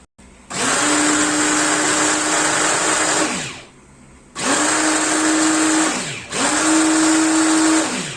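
A blender runs loudly in three bursts while blending olive-oil pickles, whirring at a steady high pitch, stopping briefly between each run.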